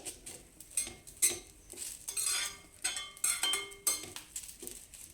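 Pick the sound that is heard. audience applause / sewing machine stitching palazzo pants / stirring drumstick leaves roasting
stirring drumstick leaves roasting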